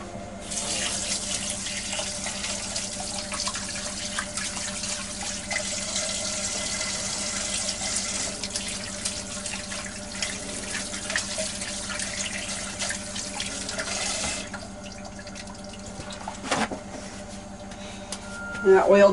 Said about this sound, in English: I gotta wash my hands off real quick.